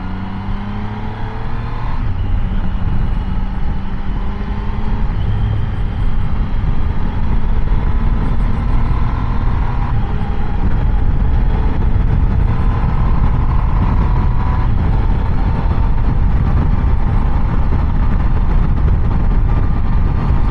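A Triumph Tiger 800 Sport carrying rider and passenger gives a loud, steady engine drone that rises and shifts in pitch as it pulls through winding road sections, with strong wind rush and no talk.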